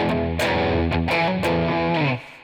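Heavy distorted electric guitar plays a few major-third chords in a steady rhythm, loud and sustained, with a brief fade at the end.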